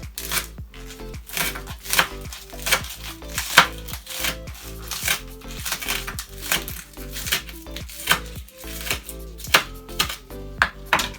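A knife slicing spring onion on a board gives rapid, regular chopping taps, close and crisp, continuing steadily throughout with no talking.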